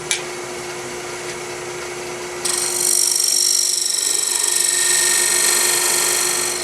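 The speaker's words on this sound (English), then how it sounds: "Then I'm going to spin my tool rest around and slice the ring off from outside." Wood lathe with a turning tool cutting a ring from spinning ambrosia maple: a steady motor hum, then the cut bites in with a loud, bright, continuous hiss that holds to the end.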